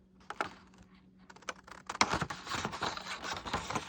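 Scissors snip through paper while cutting out a paper pumpkin. The quick, close clicks and crisp cuts start sparse and become denser and louder partway through.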